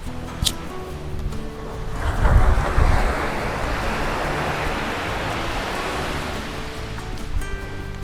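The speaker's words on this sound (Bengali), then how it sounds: "অনেক জোরে জোরে ঢেউ আসতেছে এই পাশটাতে" Strong sea waves roll onto Perissa Beach in Santorini, a steady broad wash of surf that builds into a louder crash midway, with wind buffeting the microphone throughout.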